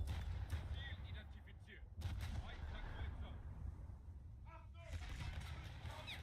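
Naval gunfire from War Thunder ship combat, with repeated heavy booms and sharp cannon shots over a constant low engine rumble as the player's ship comes under fire, with a voice briefly speaking.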